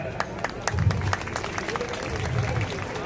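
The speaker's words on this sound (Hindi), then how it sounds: "एक बार जोरदार ताली बताओ।" Applause from the audience at a Gautam Group 15th foundation day celebration in Bhaganbigha, a steady wash of clapping lasting throughout, with voices mixed in.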